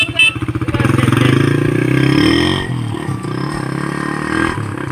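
A motorcycle engine putters loudly nearby with a pulsing rhythm, then settles into a steadier idle hum with some clattering.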